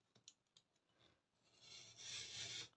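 Scissors snipping through paper card while making a gift pocket card, a few faint clicks first and then a longer, brighter rasping cut, close and quiet.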